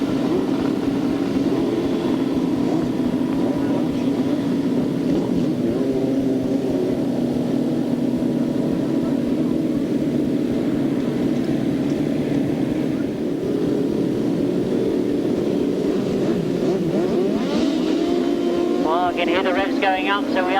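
Grasstrack racing sidecar engines at a 1993 race start, a steady loud droning roar with a rising whine near the end, and commentary running over it.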